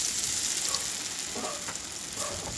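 Batter-coated okra stuffed with sattu sizzles steadily in hot oil, a close, continuous crackling fry with small bubbling pops and no voices.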